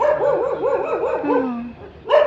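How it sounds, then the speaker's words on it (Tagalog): A dog barks and yips in Maadi, Cairo, in a quick run of close, loud, whining barks with a short gap before one final bark. "May aso pa."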